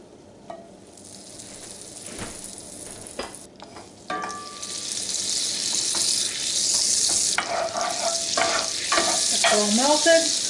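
Bacon fat and butter sizzle in a pan for Pennsylvania Dutch fried apples. The sizzle starts soft, then grows into a loud, steady crackling hiss with scattered pops and light scraping.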